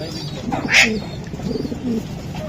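Racing pigeons coo close by in low, throaty rolling phrases, with a brief sharp higher sound partway through.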